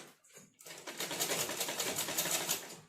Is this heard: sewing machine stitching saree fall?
yes